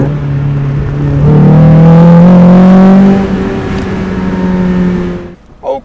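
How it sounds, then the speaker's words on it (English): A modified NB Mazda Miata convertible drives with the top down on a sunny afternoon, its engine droning close and loud as it revs up through a gear, holds, then eases off. "driving a modified Miata with a top down on like a sunny afternoon"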